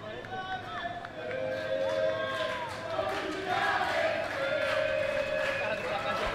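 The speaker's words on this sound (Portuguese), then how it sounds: "Torcida se manifestando" Football supporters at Laranjeiras stadium during a women's Fluminense versus Flamengo match, a sustained distant crowd chant with whistles and rising calls, continuous and moderately loud.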